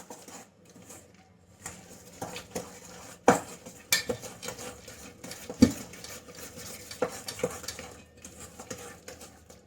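Mini cake batter ingredients, including powdered milk and sugar, being mixed by hand in a bowl, with quiet stirring and scattered sharp clinks of a utensil against the bowl at irregular intervals, no voices.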